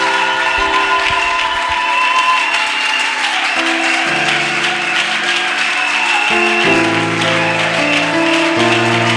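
A church congregation applauds at length during a French-language service, steady clapping mixed with music-like sustained tones and crowd noise filling the room.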